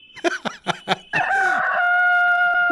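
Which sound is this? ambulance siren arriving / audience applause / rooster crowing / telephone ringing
rooster crowing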